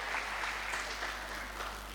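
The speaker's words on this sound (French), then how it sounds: "on applaudit les natifs de juillet" A church congregation claps steadily for a couple of seconds, a dense, even patter of hands in a large room, with no voices over it.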